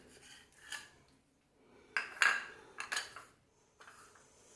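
An egg beaten into a semolina and flour batter for jhal pitha, heard as a few quiet, irregular scraping and clinking strokes of a utensil against a bowl, separated by pauses, with no voices.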